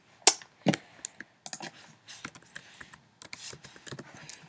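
Fingers tap out a short word on a computer keyboard, a quick, irregular run of crisp, close key clicks with brief pauses between bursts.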